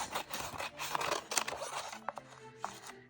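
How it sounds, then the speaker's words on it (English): Scissors snipping little vertical lines into folded paper for a craft mask, a series of quiet, close crisp cuts and rustles with short pauses between them. "I'm going to fold it in half. And then I'm just going to cut little vertical lines."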